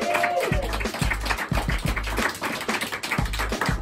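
A roast-battle audience applauds a contestant, dense clapping with heavy rhythmic thumps of stomping or table pounding, loud and close throughout.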